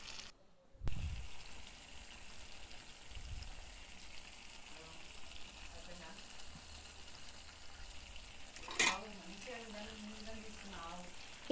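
Chilli powder and tomato pieces are stirred into a frying chicken curry, giving a soft continuous sizzle with occasional clinks and scrapes of a spoon against the pan.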